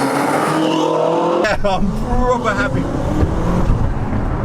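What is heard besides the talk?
BMW M6 with full Armytrix exhaust revving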